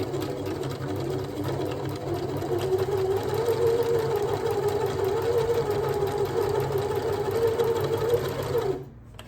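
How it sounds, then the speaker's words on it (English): A sewing machine runs a test stitch, a steady close mechanical hum and rapid rhythmic needle clatter that holds for several seconds before stopping abruptly, with no speech. "the machine's ready to go. I'm just going to do a test run just to make sure the stitch is all right"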